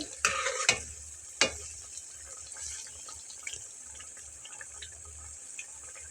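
Potato nuggets frying in oil, a quiet steady bubbling hiss with a few sharp clinks and knocks near the start, then a faint continuous sizzle.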